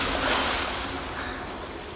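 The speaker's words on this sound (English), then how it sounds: "The violent wave hit, sweeping me away, carrying me back through the maze of tunnels." A violent ocean wave crashes and churns, a loud, steady roaring wash of surf that fades slightly over two seconds, with no voices.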